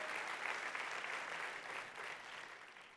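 A church congregation applauds steadily during a Spanish-language sermon, a dense wash of many hands clapping at even loudness for about three seconds with no voices on top.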